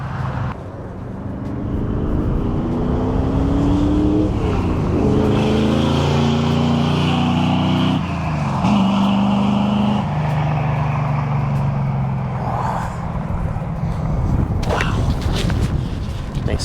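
A 1968 Camaro with a 454 big block V8 runs loud and close, its deep throaty exhaust rising and falling through several revs and shifts, with occasional voices faint beneath it.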